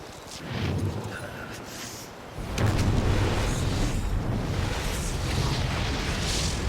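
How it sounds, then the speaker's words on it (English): A nuclear explosion in the video game Metal Gear Solid 3: Snake Eater erupts as a broad, rumbling blast that swells into a sustained roaring wash, loud and continuous. "being that close to a nuclear explosion would destroy your fucking eardrums"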